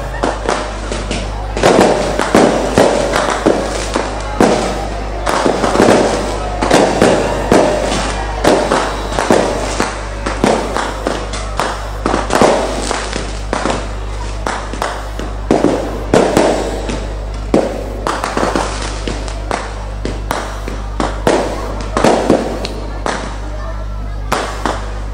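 Firecrackers and fireworks burst in rapid, irregular volleys of sharp cracks and booms, loud and close, continuing almost without pause with some crowd noise underneath.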